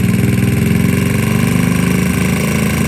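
A GY6 scooter engine runs lean during carburetor idle tuning, giving a loud, close, rapid putter with a steady pulsing rhythm and a slightly uneven, hunting note throughout, with no talking.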